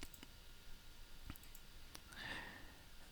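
Several sharp mouse clicks on a web page link land in quick, irregular succession over faint room hiss, followed by a soft whooshing swell.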